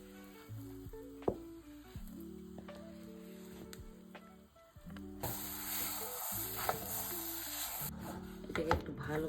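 Blended seedless dates hit a hot pan and are stirred, a soft sizzle that swells into louder frying hiss partway through, with spatula scrapes and taps and a few sharp knocks along the way.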